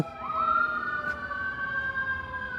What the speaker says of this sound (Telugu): అంబులెన్స్ కూడా అయ్యుండొచ్చు. అంబులెన్స్ ఇట్లా వస్తుందా?